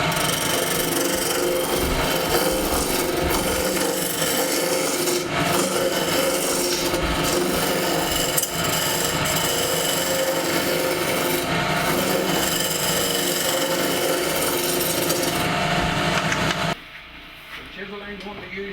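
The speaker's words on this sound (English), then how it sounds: "As you can see from each cut from the chisel, our goblet is starting to take shape." A chisel cuts into spinning wood on a lathe while a goblet is turned, a loud continuous rasping, scraping roar that holds steady before dropping off abruptly near the end, with someone talking over it.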